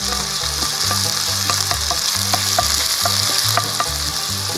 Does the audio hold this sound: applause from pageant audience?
no